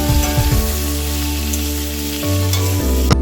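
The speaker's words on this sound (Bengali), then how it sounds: "তেলেই আলুটা ভেজে নিলাম।" Potatoes fry in oil left over from frying rohu fish, a loud continuous sizzle with stirring scrapes and a low steady hum throughout.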